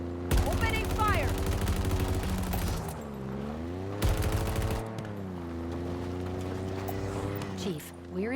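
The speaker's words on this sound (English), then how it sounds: "Opening fire!" Rapid automatic gunfire in the video game Halo Infinite, dense sustained bursts with pauses between them, mixed with humming engine tones, game music and in-game voices.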